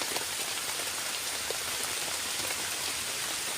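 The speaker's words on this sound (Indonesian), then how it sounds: "hujan pun turun lagi" Heavy rain pours steadily on a campsite, a dense, even hiss of drops on surfaces that stays loud and constant with no voices.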